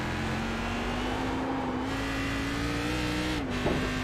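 A Cadillac CTS-V race car engine at Barber Motorsports drones loud and steady from close by, its pitch rising slowly and dipping near the end as it slows for a tight turn.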